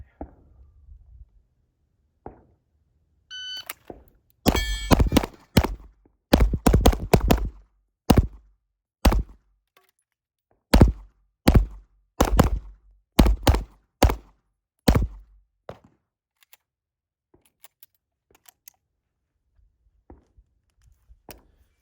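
A rapid string of sharp, loud pistol shots during a USPSA/IPSC stage on a top-swinger target, roughly fifteen reports in irregular quick bursts with brief pauses, then fading to a few faint clicks.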